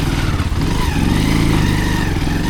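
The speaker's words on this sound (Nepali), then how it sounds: "बाइक चाहिँ आउँदो रहेछ यार" A motorbike engine drones close and loud, its mid-pitched hum rising slightly and steadily as it draws nearer on a rough road with a big pothole, no voices over it.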